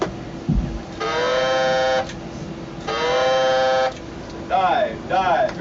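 Diving alarm aboard the submarine USS Ray (SSN 653) sounds two loud, buzzing electronic blasts about a second long each, followed by voice announcements over the ship's 1MC.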